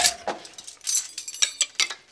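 Metal spoons clink against one another in a kitchen as they are counted, a quick run of light, bright ringing taps spaced irregularly over a couple of seconds.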